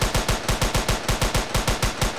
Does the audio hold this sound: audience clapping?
no